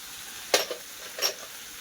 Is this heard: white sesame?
yes